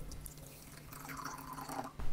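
Water is poured onto chia seeds in a brief, quiet trickle with a few drips, ending in a slightly louder splash.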